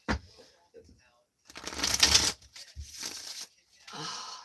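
Tarot cards being shuffled by hand, a riffling, papery burst of card noise in several short bouts, close and moderately loud, with brief pauses between and no talk over it.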